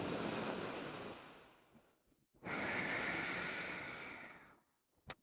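Two long, deep breaths in a hot flow yoga class, each a loud, close, airy rush lasting about two seconds, with a short pause between them and no talk.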